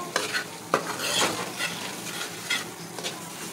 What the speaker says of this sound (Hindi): अब ये इसको भुना भुना भुना, अब सूजी स्विमिंग कर रही है घी में।